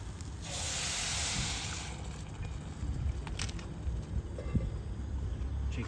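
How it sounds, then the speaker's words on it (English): Chicken broth poured into toasting rice and chicken in a pan on a sunflower stove gives a brief hissing rush of liquid, fading to a quieter simmering background. "You add your chicken broth."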